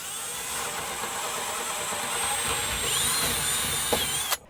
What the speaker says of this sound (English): you're only drilling through this piece of wood here